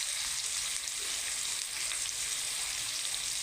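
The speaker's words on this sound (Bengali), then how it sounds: "আমি লাল লাল করে ইঁচড়টাকে একটু হালকা হালকা লাল করে ভাজবো" Young green jackfruit pieces fry lightly in a pan, giving a steady, close sizzle with soft crackle that holds evenly throughout without any voices.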